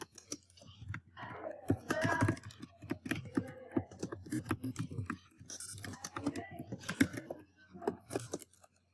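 Fingers type on a computer keyboard in quick, irregular bursts of close clicks, with soft talking mixed in now and then.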